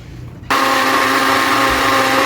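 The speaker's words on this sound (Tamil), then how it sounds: "நல்லா ஃபைன் பேஸ்ட் பண்ணிக்கணும் நல்லா அரைச்சிக்கணும்" Mixer grinder blending masala into a fine paste for camel meat kulambu, switching on abruptly into a loud, steady, high whirring drone that runs without a break to the end.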